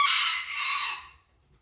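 A rooster crows once, a loud, close, strained call that fades out after about a second, with no talk over it.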